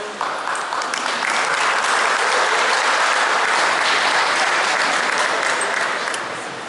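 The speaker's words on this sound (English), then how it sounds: "Please give them a applause." Audience at an African Day celebration in Stone Mountain, Georgia breaks into loud, sustained applause, swelling quickly and holding a dense, even roar of clapping for several seconds before tapering slightly at the end.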